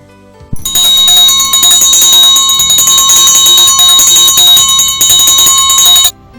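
A school bell rings continuously and loudly for about six seconds at a last-bell ceremony, a steady electric clang with bright sustained tones that starts abruptly and cuts off sharply.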